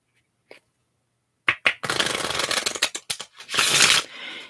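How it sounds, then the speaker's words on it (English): A deck of playing cards being shuffled at close range, with quick riffling bursts and soft flutters over a few seconds, preceded by a brief isolated tap and quiet pauses. "I'm going to shuffle the cards just a little bit"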